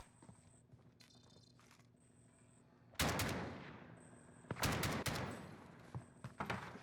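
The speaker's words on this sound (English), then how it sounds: "We hear claymores exploding. We hear gunshots." Claymore explosions and gunfire in a Call of Duty Warzone endgame ring out as sharp, loud bursts after a quiet stretch, with rapid shots and blasts trailing into echoing decay.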